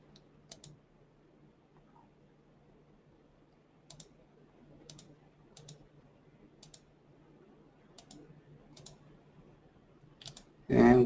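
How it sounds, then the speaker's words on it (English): Computer mouse clicks picking names from a list, single sharp faint clicks spaced a second or so apart in a quiet room, with a low steady hum underneath. "I'm just going to click some names."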